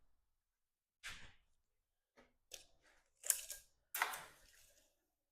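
Scissors or snips cutting a strip for custom interior trim, a few short crisp snips and rustles spaced out in a quiet room.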